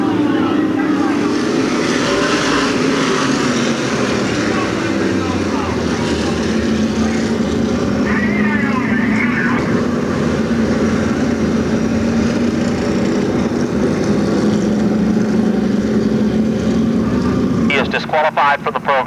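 Modified stock cars race at Riverside Park Speedway, a continuous loud engine roar from the pack filling the track throughout, with a commentator talking over it.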